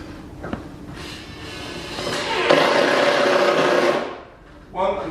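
A power driver sends one-inch screws in to fix a blind, its motor whirring loudly and steadily for a few seconds before winding down, followed by a short burst of talk.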